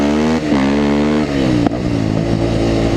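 A supermoto motorcycle engine roars loudly and close while riding, its pitch rising and falling through quick throttle changes and gear shifts, with no talk.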